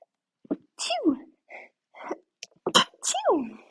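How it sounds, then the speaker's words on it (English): A woman sneezes twice in quick succession during a Pilates mat workout on a foam roller, each a sharp, close, loud burst with a drawn-out vocal tail and quick breaths in between. "Oh, I have a sneeze."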